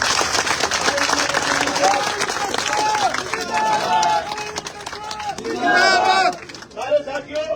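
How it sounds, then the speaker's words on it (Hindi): Crowd applause and cheering at an outdoor political rally during a foot march to the Bhadra municipality, a dense, continuous roar of clapping mixed with shouting and overlapping voices throughout. "जोरदार तालियों से स्वागत करें।"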